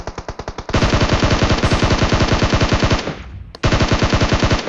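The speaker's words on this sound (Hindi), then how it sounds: "जो कि पिछली वाली टीम पे फायर कर रहा था।" Rapid automatic gunfire in a battle royale video game rattles out in long, evenly spaced bursts, loud and close, with one brief gap before the firing resumes.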